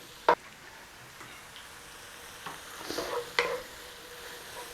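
Carrots and celery frying in a pan for a chicken pot pie, with a faint low sizzle broken by a few sharp clatters as the vegetables go in and get stirred.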